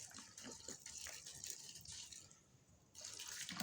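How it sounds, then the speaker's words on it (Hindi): About half a litre of water pouring steadily into a pressure cooker, a continuous splashing gush that briefly dips in the middle and then resumes at full strength. "आधा लीटर के करीब पानी डालूंगा मैं,"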